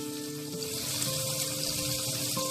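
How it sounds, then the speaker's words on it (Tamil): Onions sauté in a pan with spices, a continuous, close sizzle and crackle held at an even level, with faint tonal hums behind it and no talking. "வெங்காயம் நல்லா வதங்கிட்டு இருக்கு."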